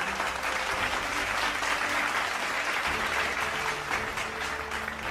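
A crowd applauds the first runner-up at the Tiger Run 2025 prize ceremony, steady continuous clapping over a low background hum.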